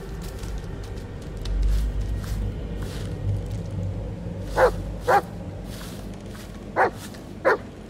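Dog barks in the horror game Blair Witch: four sharp barks at a distance, two close together then a pause and two more, over a low rumbling ambient background with no talk.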